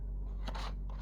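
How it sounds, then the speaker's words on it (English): Scissors cutting a circle out of thick cardboard: a brief close crunchy snip or two over a low steady hum. "Now this is pretty thick cardboard, you can hear that, hey?"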